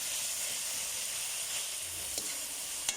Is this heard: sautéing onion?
yes